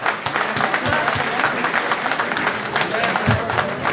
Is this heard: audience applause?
yes